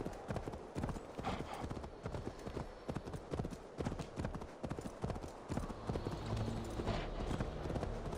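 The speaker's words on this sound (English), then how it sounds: "I have my massive reindeer I could be riding into battle" Hooves of a large reindeer mount gallop in Assassin's Creed Valhalla, a fast steady clip-clop drumming loudly and continuously over game ambience and a faint whinny-like call.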